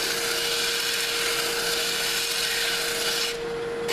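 Sandpaper rubs steadily over a cork grip on a custom fishing rod, making a continuous dry rasping hiss at close range with an even rhythm that eases slightly near the end.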